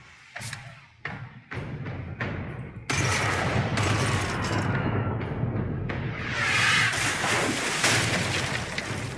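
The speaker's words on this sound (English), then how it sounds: "Fire the port cannons." Ship's port cannons fire in the Pillars of Eternity II: Deadfire naval battle, a rapid volley of booming blasts followed by a sustained, rumbling roar of gunfire and sea noise.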